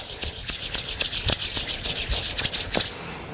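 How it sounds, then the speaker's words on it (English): Palms rubbed briskly together with a drop or two of essential oil, giving a steady run of close, soft swishing strokes in a quick repeated rhythm before stopping. "Rub it between the hands"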